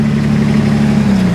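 A Ford Ranger pickup at a truck auction, its engine running with a loud, steady, close drone that holds an even pitch throughout.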